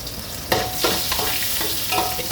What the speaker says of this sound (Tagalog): gigisan natin yung broccoli natin.